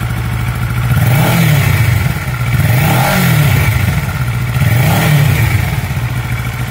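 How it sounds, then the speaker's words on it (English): A 2012 Kawasaki ER-6 motorcycle engine revved in a workshop during a crank sensor test, loud and close, rising and falling in three repeated revs over a steady running drone. "So now we'll give it a wee rev."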